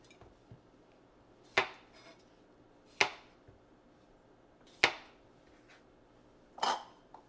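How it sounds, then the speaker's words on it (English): A knife dicing cucumbers on a cutting board while making a Greek pasta salad, heard as four sharp, separate chops spaced a second or more apart, close and fairly loud against a quiet kitchen. "I'm going to dice the cucumbers."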